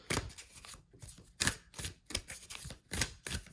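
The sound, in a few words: shuffling white light oracle cards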